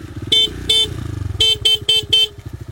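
Loud motorcycle horns honk to herd cattle on a pasture in West Sumatra, a series of short and longer blasts, six in all, over the sputtering rhythm of a nearby idling engine.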